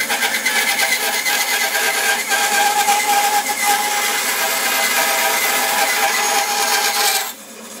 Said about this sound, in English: I can take that off with the table saw, but it's a bit dangerous, so I'll use the bandsaw instead